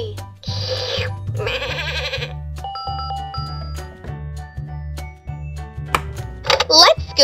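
A cartoon sheep in a children's educational activity bleats twice in quick succession over a light, bouncy musical backing, followed by brighter chimes and a voice near the end.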